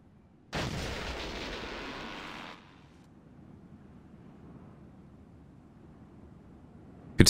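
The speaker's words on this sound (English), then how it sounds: "In fact, I should grenade the other two as well" A grenade goes off in the video game Valkyria Chronicles: one loud, sudden broadband blast that sustains for about two seconds before dropping to a low rumbling tail, with a sharp click at the very end.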